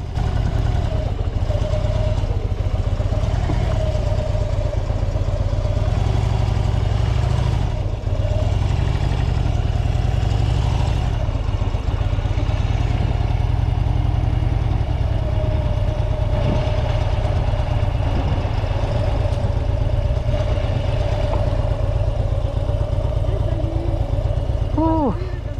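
Custom motorcycle idling at a gate, a low, steady rumble close by that runs throughout with faint clatter over it.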